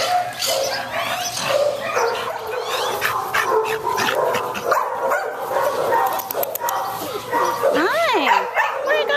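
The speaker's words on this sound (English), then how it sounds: "Where's Sally, doggy" A dog yips, barks and whimpers in short bursts throughout, mixed with a person talking nearby.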